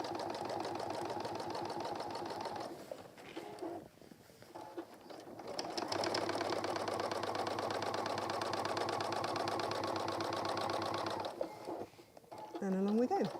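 A sewing machine hums and clatters in bursts while stitching a messenger bag in a workshop, close and moderately loud, with a voice talking over parts of it.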